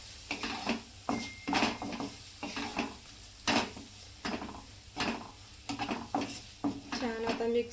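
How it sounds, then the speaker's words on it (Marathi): Spice masala for dal tadka stirred in a pan, a run of irregular scraping and clinking strokes over a soft sizzle, close and fairly quiet, with no voices. "आता ह्याला छान असं मिक्स करून घ्यायचं आहे"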